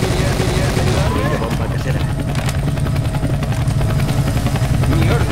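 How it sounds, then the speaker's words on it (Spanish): A helicopter in the video game Left 4 Dead 2 drones steadily with a dense, loud rotor chop under continuous game noise and scattered gunfire-like crackle. "Un helicóptero."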